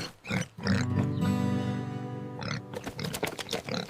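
Pigs grunt and squeal up close, with one long, drawn-out squeal in the middle flanked by shorter snorting grunts.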